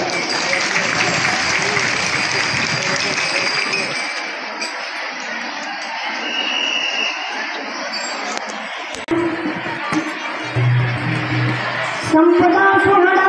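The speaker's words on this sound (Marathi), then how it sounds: "सर्वांनी टाळ्या वाजवून स्वागत करायचे." An audience claps in welcome at an Ashadhi Ekadashi ringan ceremony and discourse, with steady crowd applause running through most of the stretch and a few brighter ringing tones near the end.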